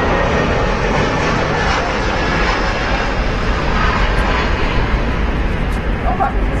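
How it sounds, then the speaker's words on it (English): A Boeing 747 jet taxiing into position at an airport, heard as a steady, fairly loud broadband engine roar that holds constant throughout with no clear rise or fall. "Get that Queen taxiing into position,"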